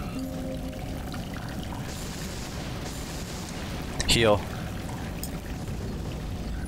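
Waterfall in the game Salt and Sanctuary, a steady broadband rush of pouring water heard continuously, with a brief descending tonal effect partway through and a voice speaking over it.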